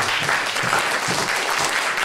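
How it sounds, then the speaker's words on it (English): Dense, steady clapping from an audience at a music event, a short continuous burst of applause recorded fairly close. "how about a big round of applause for Alexander Neumann and Barbara"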